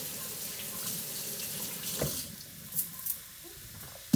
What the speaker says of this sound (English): Then I'll rinse on the cold water,